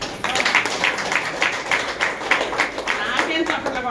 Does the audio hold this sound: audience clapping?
yes